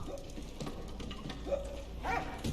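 A dog in the World War I video game Valiant Hearts gives short, soft whimpers and yips over a low game background.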